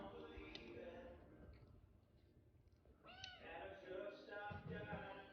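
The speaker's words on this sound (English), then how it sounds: "Kitty, what are you doing? Oh, are you up there on the seed box?" A cat on a John Deere 4440 tractor's seed box gives a couple of faint, quiet meows, one clear rising call in the middle, over soft background rustling and clicks.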